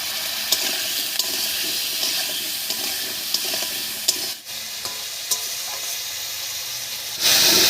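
Potatoes stirred in hot oil with spice tempering for a Bengali village-style dish, a steady close sizzle with intermittent scraping stir strokes, continuous throughout and briefly dipping before a louder hiss at the end.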